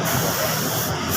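A continuous, close hiss of a spray gun misting clear coat onto a Honda Supra motorcycle's bodywork, steady and loud for the whole moment with no voices.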